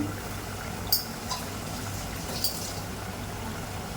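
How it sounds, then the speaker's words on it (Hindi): Water runs in a steady rush into a blender jar being rinsed, with a low hum underneath, broken by a couple of faint clinks. "मिक्सी को अच्छे से धो देंगे"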